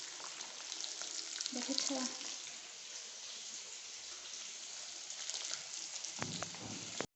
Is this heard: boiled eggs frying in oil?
yes